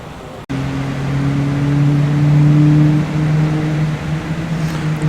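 A Mark 1 Austin Sprite Frog Eye race car hums past at a classic sports car race at Oulton Park, a steady engine drone heard from a moderate distance that swells slightly and then fades.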